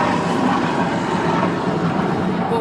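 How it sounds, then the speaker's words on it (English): A steady low rotor-and-engine roar from a big helicopter overhead, constant and fairly loud throughout, with no other sounds standing out. "Big helicopter up there."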